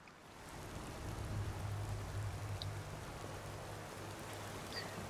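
Steady rainfall in Skyrim, a dense continuous patter at even loudness throughout, with no voices over it.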